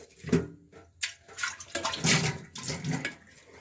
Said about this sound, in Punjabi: ਹੁਣ ਥੋੜਾ ਜਿਹਾ ਅਸੀਂ ਪਾਣੀ ਪਾ ਲਾਂਗੇ ਐਸ ਲੋੜ ਅਨੁਸਾਰ ਪਾਣੀ ਪਾ ਲਿਆ ਦੇਖੋ